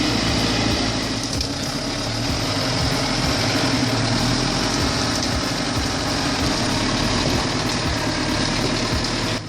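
Belarus tractor with a turbocharged four-cylinder D245 diesel of about 100 horsepower straining with a log trailer in mud, a loud, steady low engine drone that barely changes, no talk.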